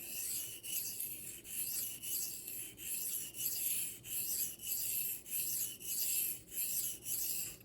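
A knife blade stroked back and forth on a fine-grit waterstone, about a dozen rhythmic rasping swipes in steady succession, close and fairly quiet, with no voices.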